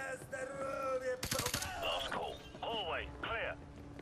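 Video game gunfire in rapid bursts of sharp shots, close and loud, mixed with voices talking over the action.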